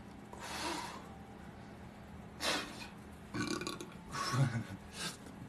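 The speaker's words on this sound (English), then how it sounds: "yawning and burping are ways that I release energy" Several drawn-out, throaty burps from one person, spaced across a few seconds, close to the microphone in a quiet indoor setting with no talking.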